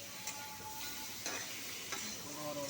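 Pieces of rohu fish head fry in a pan with a soft, steady sizzle and faint scraping stirs, heard quietly and at close range.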